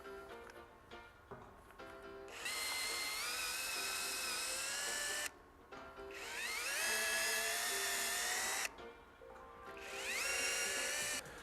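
A power drill bores and reams holes in aluminum tabs for a Kitfox aircraft build, three long high-pitched whining bursts with brief pauses between, close and loud, no talking.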